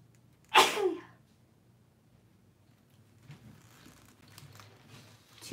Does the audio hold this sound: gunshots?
no